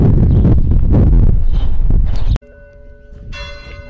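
Church bells in the village of Saelices, Spain: loud, blustery rumbling at first, then an abrupt cut to a clear, moderately distant bell strike whose ringing tone and hum linger.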